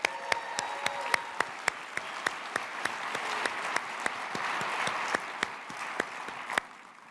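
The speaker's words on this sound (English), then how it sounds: "let's have a round of applause" An audience applauds at the CES 2024 keynote, a steady, moderately distant wash of many hands clapping with sharper individual claps standing out, holding for several seconds before tapering off.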